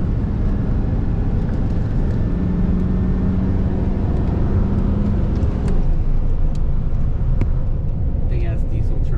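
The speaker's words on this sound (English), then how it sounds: "Big ass diesel truck." A big diesel truck rumbles past near a pace-car racing session, a heavy low drone that holds steady and then fades as it moves away, with some background noise around it.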